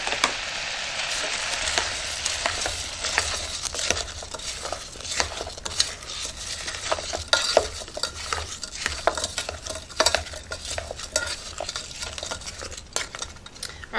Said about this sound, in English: we're going to continue to cook this down until it's nice and liquidy